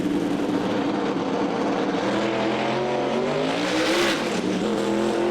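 A turbocharged Hemi Pro Mod drag car at a British drag racing championship round, engine roaring loud and steady close by with rising revs, the tires struggling for grip on the track.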